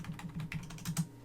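Quick bursts of keystrokes on a computer keyboard while entering network switch configuration commands, close and fairly quiet, with no voices.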